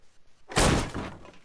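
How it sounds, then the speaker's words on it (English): Door kicked in during the video game L.A. Noire: a heavy wooden slam and splintering crash after a few soft footsteps, loud and close, with a short rattling tail. "Don't bother knocking, just kick the door in."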